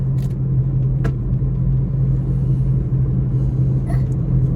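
A car is driven along a road home from school, a loud, continuous low rumble heard from inside the cabin with a few faint clicks over it.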